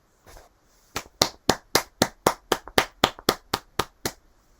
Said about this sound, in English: The crowd gently clapped.